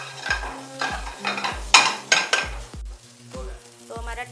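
Tomatoes fry in a pan in a close sizzle, broken by a rhythmic series of knocks and scrapes from a spoon stirring against the metal.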